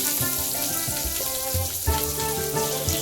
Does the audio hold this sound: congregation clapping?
no